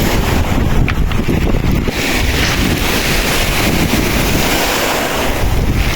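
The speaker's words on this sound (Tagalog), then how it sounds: "Ito po ang dagat dito," Sea surf washes steadily onto a rocky coastal shore while strong wind buffets the microphone, a continuous loud roar of waves and gusts with no voices.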